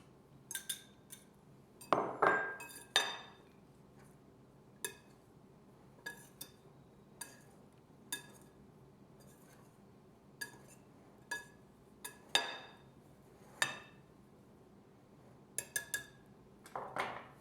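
A spoon stirs olives into dry bread ingredients in a bowl, giving sparse, close clinks and knocks of utensil against the bowl at irregular intervals over a quiet background.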